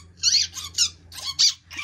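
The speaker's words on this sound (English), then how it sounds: "It's a squeaky dolphin." A squeaky toy dolphin lets out five short, sharp squeaks in an uneven rhythm, close and loud against a quiet background with a faint low hum.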